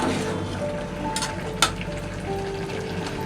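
Bottle gourd and shrimp masala sautéing in a pan, a steady close sizzle broken by brief scraping stirs and one sharp utensil knock midway.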